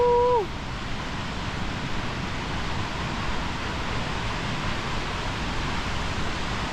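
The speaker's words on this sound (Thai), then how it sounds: "แล้วก็น้ำไหลแรงมากเลย ตรงนี้" A waterfall near home swollen after rain rushes hard as a steady, loud, broadband roar filling the whole stretch, briefly topped by a short tone at the start.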